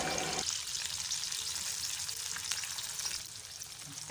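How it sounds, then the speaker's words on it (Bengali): Dry fish and chopped onion sizzling in hot mustard oil, a dense, close, continuous frying hiss that swells at the start and holds steady with a slight dip near the end. "তেলটা একটু গরম হলে এতে অ্যাড করব রেসিপির ফার্স্ট মেন ইনগ্রেডিয়েন্ট শুখা মাছ। তারপর এতে অ্যাড করব চপ করে রাখা পেঁয়াজ"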